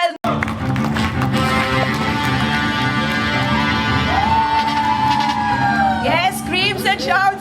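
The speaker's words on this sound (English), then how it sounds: "Yes, screams and shouts, ladies and gentlemen." A large crowd screams, whoops and cheers continuously over loud music at a film press event, with rising shrieks near the end.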